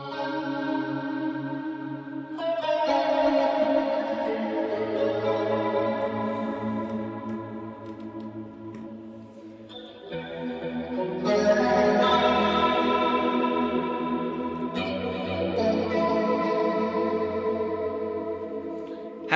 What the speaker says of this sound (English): Chorus. Yes, we have chorus.